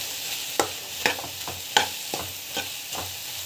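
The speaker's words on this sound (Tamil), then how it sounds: "பச்சை வாசம் போகிற வரைக்கும் நல்லா வதக்கிட்டு" A spice mixture sautéed in a pan, a soft steady sizzle broken by several sharp scraping stirs of a spoon at irregular intervals, close and alone.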